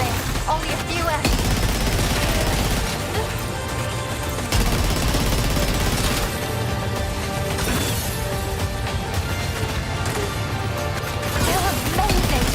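Dense gunfire in Death Stranding 2 keeps up throughout, with rapid overlapping shots, crashes and heavy low rumble, loud and continuous, while voices call out over the battle.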